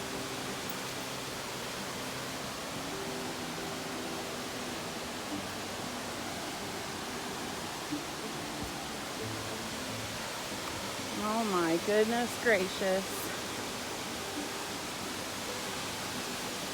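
Laurel Falls heard from the trail, a steady broadband rush of falling water at a moderate distance, with a person briefly exclaiming over it.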